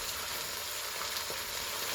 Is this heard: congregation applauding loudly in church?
no